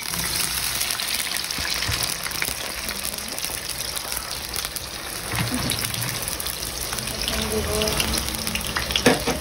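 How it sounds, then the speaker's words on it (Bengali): Potatoes and carrots sizzle in hot oil in a pan, a dense, steady crackling hiss close by that runs throughout. "আমি তেল দিয়ে দিতেছি আলু আর গাজর ফ্রাই করার জন্য"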